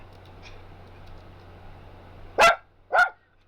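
Two loud, sharp dog barks close by, the second following about half a second after the first, over a quiet background hum.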